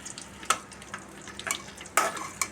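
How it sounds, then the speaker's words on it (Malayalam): Mustard seeds pop and splutter in hot oil in a pan, with a low sizzle broken by several sharp, distinct crackles at irregular moments. "ബാക്കിയുള്ള എണ്ണ അതിൽ കുറച്ച് കടുകിടാം"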